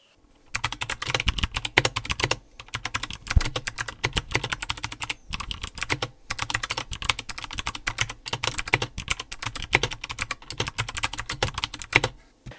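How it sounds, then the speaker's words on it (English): Mechanical keyboard with foam placed underneath, typed on in fast bursts of crisp, close key clacks with deeper spacebar thumps, separated by a few short pauses. "The keys sound a lot less hollow when you bottom out, and I think especially the spacebar sounds a lot fuller"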